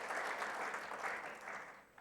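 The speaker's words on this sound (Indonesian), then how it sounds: "tepuk tangan bagi Tuhan Yesus" Steady applause from a church congregation during a Sunday worship service, a dense continuous patter of clapping that holds for the whole stretch and thins slightly at the end.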